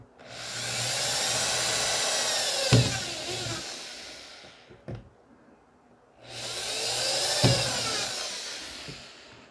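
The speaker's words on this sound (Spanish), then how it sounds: "Debemos de seguir ampliando este agujero, ya que aquí nosotros vamos a cruzar este conector tipo F hembra por acá. Debemos de ampliar con otra barrena." An electric drill bit widens a hole for an F-type female connector on a homemade TV antenna in two steady, loud whirring bursts of several seconds each. A brief knock comes between them and there is no talk.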